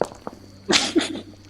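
A single sharp sneeze bursts out after a brief faint murmur, close and loud, followed by a quick trailing breath.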